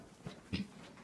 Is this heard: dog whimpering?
yes